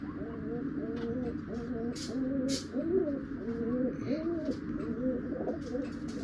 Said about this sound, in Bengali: শখ করো আর এক জোড়া পিওর লালচিনা পায়রা রাজেন বালা নসলে, সাদা চোখ সাদা ঠোঁটে।